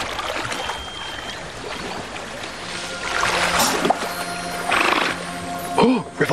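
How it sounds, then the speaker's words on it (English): Giant river otters call upriver, faint high squeals and chirps rising over a steady background of rushing water. A few louder cries come near the end. "That is the sound of giant river otters."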